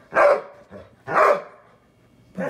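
A dog barks indoors, three loud, close, separate barks spaced about a second apart, with no talking over them.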